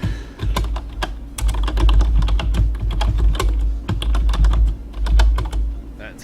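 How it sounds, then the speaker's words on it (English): Rapid typing on a computer keyboard, a dense close run of clicky keystrokes with brief pauses over a low steady hum. "That's typing."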